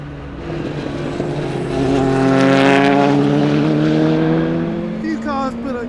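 A Courage C65 LMP2 prototype race car at full throttle, its engine note climbing steadily and loud in a continuous pull, swelling to a peak mid-run before easing slightly, heard close from onboard.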